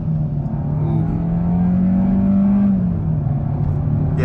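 A 2022 Kia K5 EX launches off the line with its engine droning loud and steady, pitch rising then easing as traction control intervenes, heard from inside the car.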